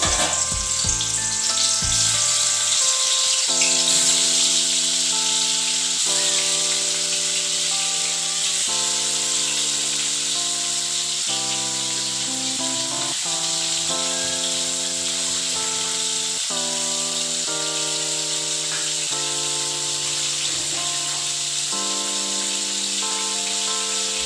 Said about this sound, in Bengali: আমার তেলটা তেতে গেছে, এরপর আমি মাছটা ভেজে নিচ্ছি প্রথমে।